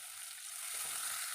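About a cup of sliced onions frying in hot oil in a wok, a steady, loud hiss of sizzling that swells slightly midway, with no voices.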